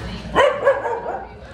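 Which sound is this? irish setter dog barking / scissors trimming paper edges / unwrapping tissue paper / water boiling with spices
irish setter dog barking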